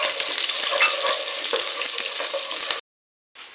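Six chopped shallots and four chopped garlic cloves fry in hot oil until golden, a steady close sizzle that cuts off abruptly near the end before a brief quiet return.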